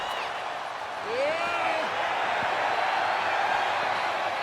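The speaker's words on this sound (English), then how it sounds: "And the crowd coming alive here for LA Knight here." An arena crowd in WWE 2K25 swells into steady cheering behind a wrestling match, with whistles and shouts rising above the roar while a commentator talks over it.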